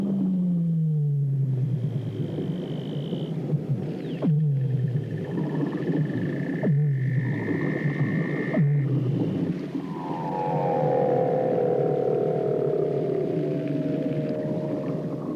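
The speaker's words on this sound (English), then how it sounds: "From the unfathomed darkness come sounds from seals foraging hundreds of feet below." Weddell seals foraging deep beneath Antarctic ice, loud eerie underwater calls with repeated descending trills and chirps, long whistling tones and a rising warble, close and resonant over a constant rumbling undersea background.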